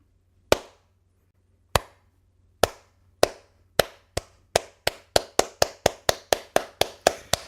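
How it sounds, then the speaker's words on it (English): Single sharp hand claps ring out alone, starting slow and widely spaced, then gradually speeding up into a steady, quicker rhythm. "Slow clap."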